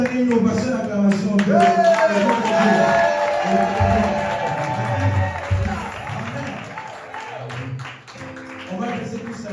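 Congregation at a Sunday church service breaks into applause and cheering, with clapping and voices blending under a mix of calls and chatter, fairly full and close, tapering slightly near the end.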